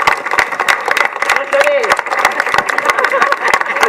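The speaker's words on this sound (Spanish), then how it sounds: "Un fuerte aplauso para ella" Crowd at a special-needs school event applauding a teacher, dense steady clapping mixed with voices and cheering, fairly loud and close throughout.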